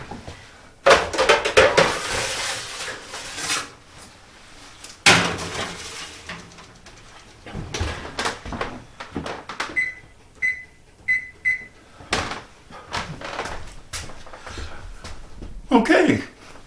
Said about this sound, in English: I'm going to put it on a baking pan. I'm going to stick it in a 350-degree oven for about 10 minutes